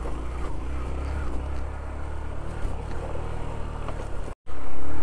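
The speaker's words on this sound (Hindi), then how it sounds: "बाइक पहले गियर में," Motorbike climbing a steep, rough uphill track in first gear near a forest, its engine droning loud and close without letup, briefly cutting out near the end.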